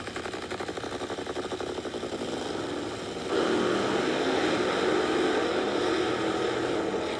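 A race car engine idles at a qualifying event, a steady loud mechanical drone that grows louder and rougher about halfway through as the car is rolled forward, with no voices.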